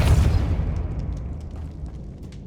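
A deep booming blast from a Depulso spell in the video game Hogwarts Legacy, heavy and rumbling at onset, then a long decaying roar with faint scattered debris clatter as it dies away.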